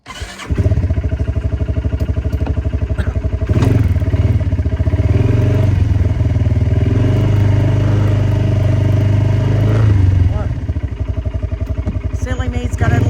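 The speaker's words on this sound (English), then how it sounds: "I'm going to put up the four-wheeler, so y'all can ride it with me" A four-wheeler ATV engine runs close and loud, a continuous rumbling putter with slight rises in revs, and a voice talks over it at times.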